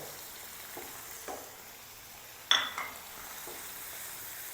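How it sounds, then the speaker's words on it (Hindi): Spices and vegetables for shahi daal roasting in a pan, a quiet low sizzle with soft stirring strokes and one sharp metallic clink of utensil against pan, no voices. "अब मज़ीद इसकी थोड़ी देर हम भुनाई कर लेंगे"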